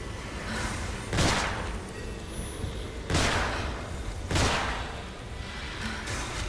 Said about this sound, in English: we finally have a gun and we can shoot some stuff